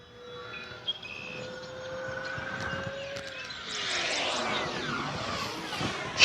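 An E-flite P-51D Mustang RC plane with a 1.5 m wingspan flies past, its electric motor whine rising and falling in pitch as it approaches and then swoops by with a louder rush of air, faint at first and growing nearer.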